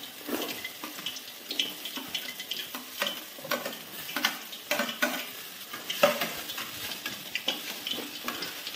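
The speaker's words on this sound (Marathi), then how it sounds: "आता कांदा तळण्यासाठी टाकायचा." Onion frying in oil for vada pav, a soft sizzle under frequent rhythmic stirring and scraping strokes close by, with faint watery sounds and no talking.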